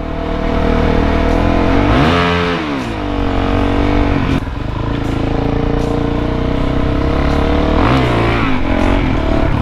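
A supermoto motorcycle rides under a viaduct, its engine loud and close, revving up and down through gear changes with the roar echoing under the structure.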